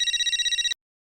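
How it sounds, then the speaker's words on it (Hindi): An old-fashioned telephone bell rings from a private-number call in a Hindi comedy scene, a rapid, bright, close warbling trill lasting under a second, then stopping abruptly into silence. "किसका फोन है?"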